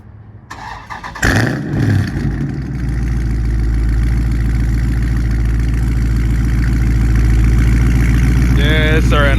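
A warm-started Dodge Scat Pack with a catless exhaust catches with a loud burst, then settles into a steady, deep idle rumble that stays close and constant to the end.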